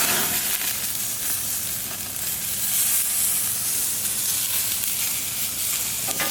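A grease fire flares on a Camp Chef Sidekick Deluxe grill box under New York strip steaks and ginger shrimp, giving a loud, steady hissing sizzle with constant crackle throughout.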